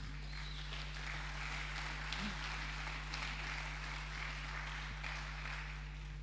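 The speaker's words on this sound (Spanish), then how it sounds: "Denle un aplauso al Señor." A church congregation applauds during a sermon, producing faint, steady clapping beneath a constant low electrical hum.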